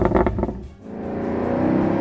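A 2018 Maserati GranCabrio with a 4.7-liter V8 revs loudly up close: a throaty burst, a brief dip, then a sustained, rising engine roar with no talking.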